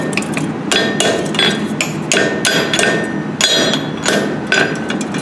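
Hand hammer striking hot metal on an anvil at a blacksmithing forge while scrolling pliers are made. The blows are sharp and ringing, struck in quick, irregular succession close by.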